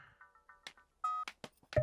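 Telephone keypad tones sound as a quick series of short, evenly spaced beeps, with a few brief clicks and a longer tone near the end, all at close range in a quiet room.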